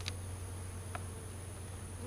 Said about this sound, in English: There's no bees on the front, but I hear them inside.